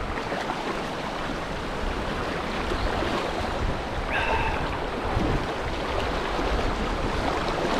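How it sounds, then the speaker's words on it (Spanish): Strong river current rushing at Los Chorros in the Huasteca, a steady, dense wash of water filling the whole stretch without pause. "Está fuerte la corriente"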